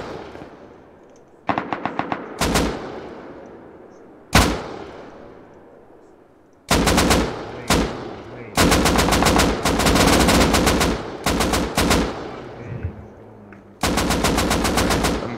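AK gunfire in a multiplayer shooter video game rattles in rapid automatic bursts, some short and some sustained, with single sharp shots between, loud and close.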